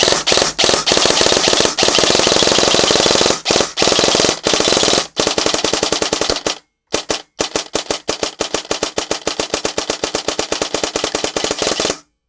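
A G&G electric airsoft gun fitted with a Perun ETU trigger unit fires rapid semi-auto shots in a fast, steady burst of loud, close cracks, with a couple of brief pauses, sounding almost like full-auto fire.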